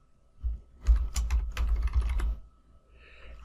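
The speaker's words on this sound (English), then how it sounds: "So I'm going to type Monday." Typing on a computer keyboard while entering a word into a spreadsheet cell, a quick burst of close keystrokes lasting about two seconds, then quiet.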